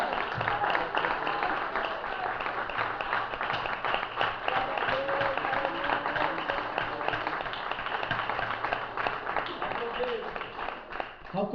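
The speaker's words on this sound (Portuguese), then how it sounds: "Aplauda ao Senhor, aplauda ao Senhor," A church congregation claps steadily and densely throughout, with a preacher's voice and worshippers' voices running over the applause.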